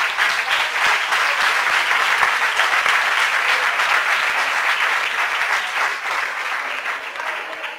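Audience applause fills a conference hall after a talk, a dense, steady clatter of many hands clapping at full strength for several seconds before tapering slightly.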